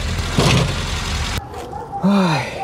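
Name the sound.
Peugeot car engine running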